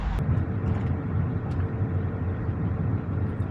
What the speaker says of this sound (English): this guy is pulling in, his truck's loud